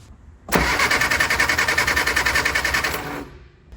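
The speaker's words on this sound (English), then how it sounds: "We'll crank it over again and see if we have spark up at the spark plugs now" An old barn-find Austin pickup engine cranks over on the starter for about three seconds in a loud, steady run of rhythmic compression pulses that stops abruptly, with no talk.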